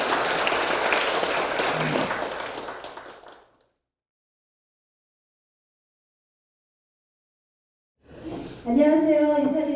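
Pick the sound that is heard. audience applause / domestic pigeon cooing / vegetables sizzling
audience applause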